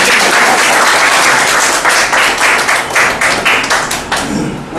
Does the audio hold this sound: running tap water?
no